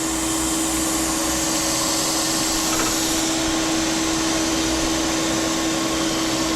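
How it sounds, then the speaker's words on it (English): A crankshaft grinder works a small block Chevy crank, its grinding wheel giving a steady, loud machine whine with a constant drone that holds unbroken for the whole stretch. "I'm just grinding this down so it's about a thou away from the final size"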